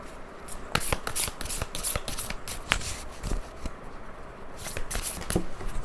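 Tarot cards shuffled by hand at close range, a steady run of crisp riffling and slapping bursts with brief pauses between them and no voices.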